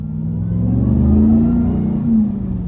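A 2024 RAM TRX pickup truck accelerating hard, its deep engine rumble rising in pitch and swelling in loudness from inside the cabin, then easing off near the end.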